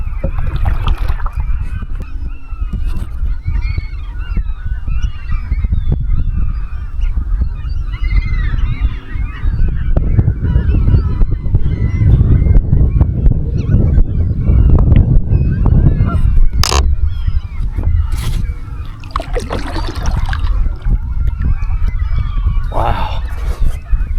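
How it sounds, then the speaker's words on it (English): A large flock of geese at Minatare Lake in Nebraska honks constantly, many overlapping calls near and far, over loud wind and outdoor rumble. "Look at all those birds."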